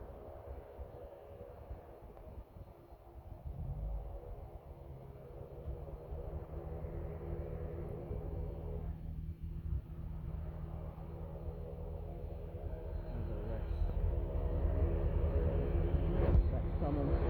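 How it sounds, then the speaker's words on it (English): A Qantas Airbus A330 passes at an airport, a low, steady jet rumble that swells gradually and grows louder toward the end, with no speech over it. "we're going to be interrupted by a Qantas A330"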